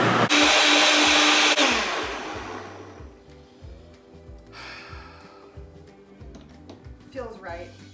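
A blender making a vegan smoothie whirs loudly for about a second, then winds down into quieter thumps and clatter, with a brief voice near the end.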